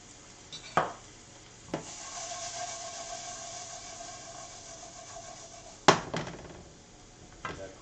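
Shrimp seasoned with Cajun spices, salt and pepper sizzle steadily in a pan while a utensil stirs and scrapes the metal, with a few sharp clinks cutting through the quiet frying hiss.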